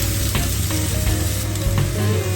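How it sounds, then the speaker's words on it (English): Garlic and shrimp sizzle in hot olive oil in a pan, a dense, continuous hiss with soft crackles, close and fairly loud, with no talking. "after adding the olive oil, I'm just going to go ahead and follow by adding the garlic, of course, and let that simmer"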